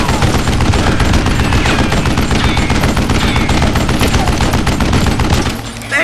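Rapid, dense gunfire fills a Wild West shootout in the Call of Juarez Gunslinger video game, shots overlapping in a loud continuous fusillade that eases slightly near the end.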